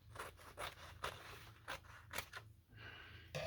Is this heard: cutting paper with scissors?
yes